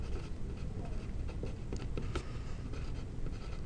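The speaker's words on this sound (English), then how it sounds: "I'll type it in the calculator." Fingers tapping numbers into a calculator, a run of soft, quick clicks under a faint background hum, close and quiet with no talking.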